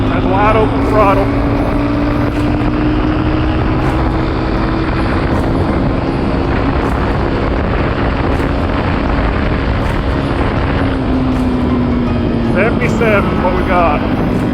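A Suzuki DRZ400S project motorcycle runs at wide open throttle in fifth gear on a street in Mexico, its engine a steady, droning whine that climbs slightly in pitch under heavy wind rush for the whole stretch.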